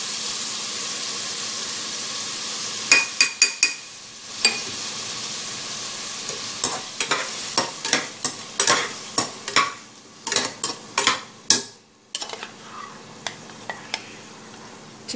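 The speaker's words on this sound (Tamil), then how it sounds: "இதை வதக்கிட்டு ஒரு இஞ்சி பூண்டு பேஸ்ட் வச்சுருந்தோம் இல்லையா" Ginger garlic paste sautéing in a hot pan with frying oil gives a steady sizzle and hiss, broken by repeated scraping stirs of a spoon against the pan, close up with no talking.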